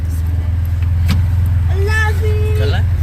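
A car engine hums steadily at close range as the vehicle pulls away from a house, with a voice speaking briefly over the low, even drone.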